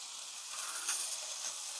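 Burgers sizzling on a Ninja Sizzle Pro XL grill give off a steady, soft hiss of frying fat that carries on evenly throughout, with no voices over it.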